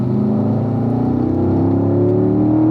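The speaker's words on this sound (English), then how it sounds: "Up through the gears, up into fifth gear." A car on a race track accelerates up through the gears into fifth, the engine note rising in a steady continuous drone close to the cockpit, loud and alone with no voices.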